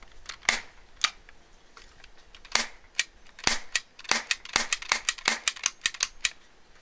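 Gonher Winchester 73 toy cap gun rifle being cycled and fired, sharp snapping cap reports and lever clicks, sparse at first then coming in a quicker irregular series, close and crisp with no talk.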